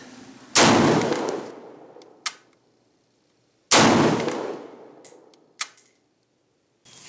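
Two loud, sharp shots from a C93 semi-automatic pistol ring out several seconds apart outdoors in winter, each trailing off into echo and followed by a small metallic clink of ejected brass.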